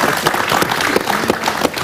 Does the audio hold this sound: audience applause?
yes